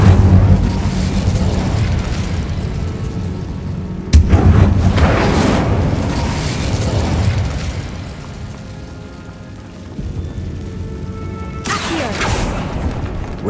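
Incendio fire spell blasts in the Hogwarts Legacy video game, heard as heavy booming bursts over a low rumbling backdrop, with a sharp blast near the middle and another toward the end.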